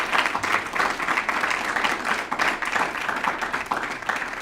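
A crowd claps warmly for a speaker recounting running the Boston and New York City marathons, a dense, continuous patter of hands with gentle swells in loudness.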